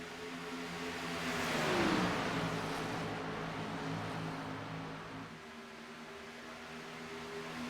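Race cars drive on a track at Texas, a steady engine drone that swells as a car passes close around two seconds and then fades to a distant hum.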